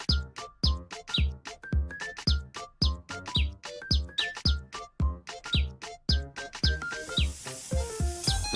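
A blue wren chirps repeatedly from a windowsill, a steady run of short, bright, rising calls close by, with a fuller burst of song toward the end.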